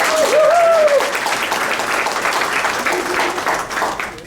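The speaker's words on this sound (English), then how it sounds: "Let's give them a round of applause again." A charity event audience applauds at length, a loud, dense round of clapping with a brief whistle near the start, then the clapping gradually thins out.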